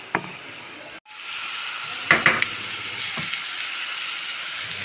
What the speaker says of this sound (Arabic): هنروح رايحين على البوتاجاز ننزل عليه على البصل بالكبده والثوم مع بعض